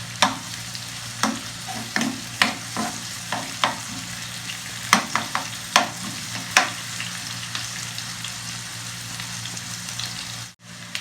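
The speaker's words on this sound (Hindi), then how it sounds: "अब हम इसमें उसी ऑयल में प्याज ब्राउन करेंगे।" Onions browning in oil for Kabuli pulao, a constant sizzle broken by a series of sharp spatula scrapes and stirs against the pot, fairly close, ending with a brief knock.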